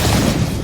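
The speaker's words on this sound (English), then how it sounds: "You just hear all those explosions during the replay there of the Crystal Maiden multi" Explosions from a Dota 2 team fight replay rumble as a dense, continuous low boom, loud and heavy for its whole brief length.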